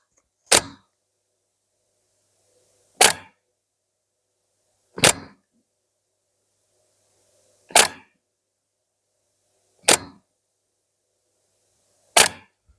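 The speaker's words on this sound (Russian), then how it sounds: "этот звук идет прямо из матрицы" A Canon 5D Mark III camera with a faulty image sensor gives off six sharp, isolated clicks spaced about two to three seconds apart, each crisp and close, with near silence between them.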